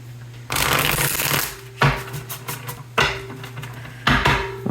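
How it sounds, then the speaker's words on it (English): Tarot cards shuffled by hand in bursts of riffling and flicking, four separate rounds with brief pauses between, close and fairly loud with a steady low hum beneath. "we're going to pull 3 cards from here"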